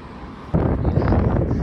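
Strong wind buffeting the microphone outdoors, a sudden loud low rumbling gust that starts abruptly and keeps roaring without any voices.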